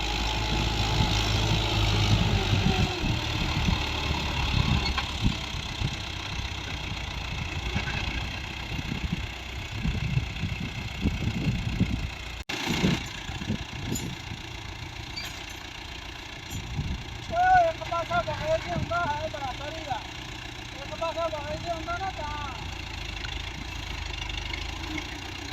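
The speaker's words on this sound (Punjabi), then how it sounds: "ਦਬੰਗ ਟਰੈਕਟਰ ਆ 19 ਮਾਡਲ" A 2019-model New Holland Dabang tractor engine runs steadily under a power test, a continuous low rumbling drone with occasional knocks and faint background voices.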